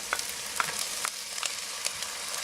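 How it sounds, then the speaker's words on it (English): Ground pork, chili paste and sauces sizzle in a wok for mapo tofu, giving a steady bright hiss dotted with sharp crackling pops, with no voices. "we're going to cook the sauces on this pan just for a little bit"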